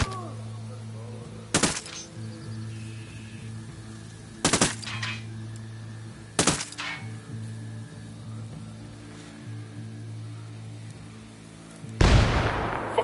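A few loud bursts of gunfire in the video game Ghost Recon Wildlands break out at intervals over a steady mechanical hum, with a final longer blast near the end.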